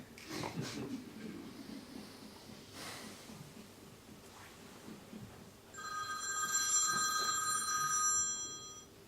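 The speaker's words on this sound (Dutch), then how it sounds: "Connie, kom onmiddellijk aan de telefoon." A telephone bell rings in a stage play, a bright electronic trill entering late and sounding steadily for a few seconds over faint room noise, without speech.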